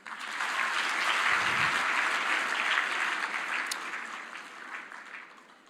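Audience applause at the Team Botswana appreciation dinner, a thick wash of clapping that rises fast, holds, then gradually tapers off.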